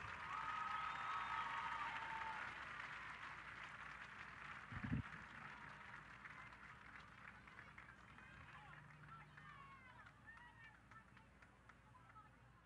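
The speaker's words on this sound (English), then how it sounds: "a round of applause for all of our Queen of Queen candidates" A stadium crowd applauds Queen of Queens candidates at an outdoor high school all-star football game. The clapping is broad and distant at first, then gradually fades into quieter crowd murmur.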